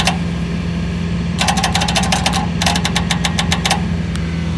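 A cheap Temu starter motor cranking a Big Block Chevy motorhome engine that fails to catch, two loud close bursts of rhythmic whirring and clicking chugs separated by a short pause, over a steady hum.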